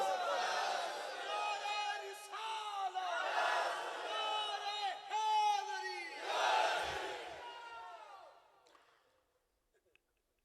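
A large crowd at a religious gathering chants the Naara-e-Takbeer slogan in loud, repeated surging bursts of many voices, swelling and fading several times before dying away into near silence.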